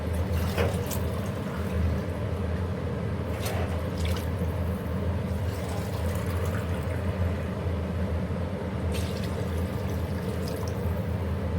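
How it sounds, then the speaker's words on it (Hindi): Water pours steadily into a cooking pot of rice for chicken pulao, about two glasses of water to one of rice, making a continuous splashing rush that runs unbroken throughout. "पानी डाल दिया जी हमने।"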